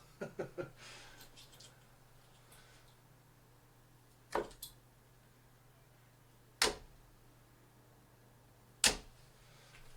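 Darts thud sharply into a budget dartboard one at a time, three distinct hits spaced a couple of seconds apart, after some faint handling noise.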